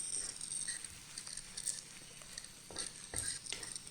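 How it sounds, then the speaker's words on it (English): Sambal dried prawns stir-fried in thinning oil give off a faint, steady sizzle dotted with small pops and soft scraping stirs, quiet and somewhat distant throughout. "So stir fry for another 2 minutes."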